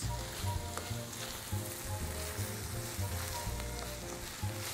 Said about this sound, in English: this is all we have to do to caramelize our onions